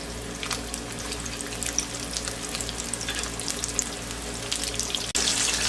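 Batter-coated chicken cheese rolls deep fry in hot oil, with a dense, continuous bubbling crackle like running water that stays fairly loud throughout, ending in a brief drop and then a harsher burst. No voices.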